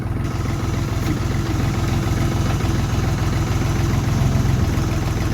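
A JINMA tractor engine runs loud and close at a steady idle, its low throbbing pulse unbroken as a gear is engaged.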